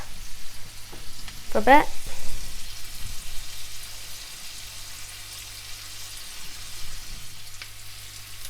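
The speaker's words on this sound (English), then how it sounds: "this has been sauteing for a while, about a minute, 2 minutes" Onions sautéing in a pan for paneer and pepper curry give a soft, steady sizzle with a brief stirring clatter near the start, a short remark heard under the frying.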